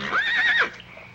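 A horse whinnies once, a loud, close, rising-and-falling neigh lasting about half a second, with faint clip-clop and outdoor ambience trailing after it in a Western setting.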